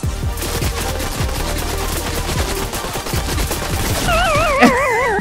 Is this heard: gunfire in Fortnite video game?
yes